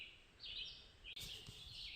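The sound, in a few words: birds singing at dawn on the Appalachian Trail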